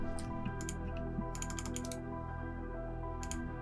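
Computer keyboard keys clack in quick clusters of taps while modeling in SketchUp, quiet and close over a steady low hum.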